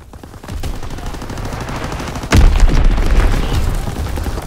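Fritz X bomb explosions in Call of Duty WWII, a heavy sudden boom erupting midway over ongoing battlefield gunfire, then a sustained rumbling roar, loud and close.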